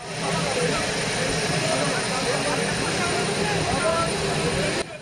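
Turkish Armed Forces military transport aircraft carrying injured earthquake survivors from Adıyaman to Istanbul, its engines a loud, steady broadband roar that holds throughout with no break.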